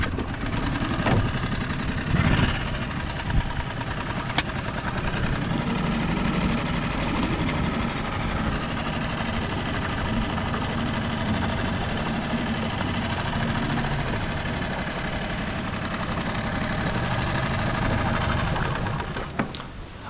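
A fishing boat's outboard engine idles and runs in reverse on the Condamine River, a steady mid-to-low motor drone with some knocking that carries throughout, close by, with faint voice traces underneath.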